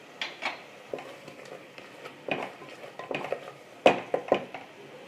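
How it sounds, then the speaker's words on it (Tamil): Whole shallots are stirred in a pot for biryani, with irregular clinks and scrapes of a spoon against the metal and a faint sizzle underneath. "அடுத்தது சின்ன வெங்காயத்தை முழுசாக அப்படியே போடுறேன்."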